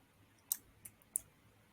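Three light, sharp mouse clicks spaced unevenly over a second, close and crisp against near silence, made while working on a rendered floor plan on a computer.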